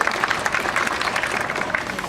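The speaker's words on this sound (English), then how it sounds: "Let's give everyone a welcoming round of applause" An audience at the Vancouver Aquarium dolphin show claps in welcome, a brief dense patter of hands sounding fairly close and steady, with crowd murmur underneath.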